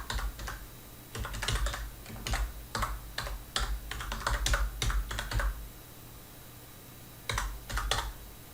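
Typing on a computer keyboard while filling in an online invoice, with bursts of quick clicking keystrokes, pauses between runs, and a final short flurry, close and clear with no talk.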